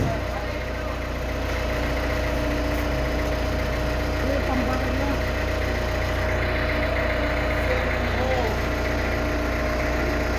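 A Komatsu PC60 backhoe with a breaker attachment runs after being started, its diesel engine idling in a steady low rumble throughout, close and continuous, with someone talking faintly over it.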